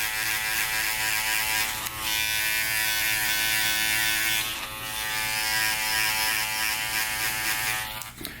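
Gold FX hair clippers buzz steadily while cutting hair, a close, loud electric hum with a dense tonal drone that barely dips as the blade moves through the hair, no talking.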